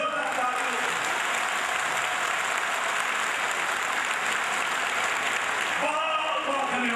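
Loud, dense applause from an audience at a gathering, a steady roar of clapping that holds for about six seconds before easing as a voice begins speaking over it at the end.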